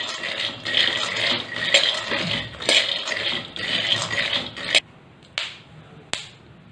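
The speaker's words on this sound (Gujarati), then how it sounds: "આપણા સિંગદાણા ફૂટી રહ્યા છે, મીન્સ તે શેકાઈ રહ્યા છે." Five hundred grams of peanuts dry-roasting in a kadai over medium heat give sharp crackles and pops along with a clatter of stirring, then a few separate loud pops ring out once the stirring stops.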